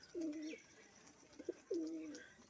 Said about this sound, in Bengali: নর পায়রাটা, এই দেখুন পাখনা নেই তারপরে আওয়াজ করে বাজি করছে